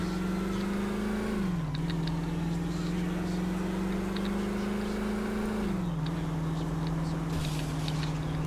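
Car engine in GTA 4: The Lost and Damned humming steadily as the vehicle pulls away, the pitch dropping twice as gears shift, loud and continuous with no voices.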